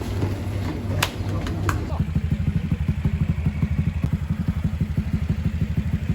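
A Honda Cub motorcycle engine putters in a fast, even rhythm close by after a few early clanks, while people talk over it.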